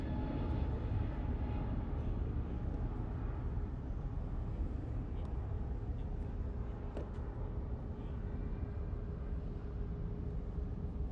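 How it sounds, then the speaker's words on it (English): Airbus A321neo taking off at Los Angeles International Airport, a steady, broad jet engine roar heard from a distance that holds fairly even throughout. "It's like an A321neo. Nice and quiet takeoff by these neos."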